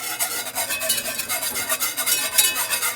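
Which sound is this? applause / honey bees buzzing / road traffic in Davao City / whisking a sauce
whisking a sauce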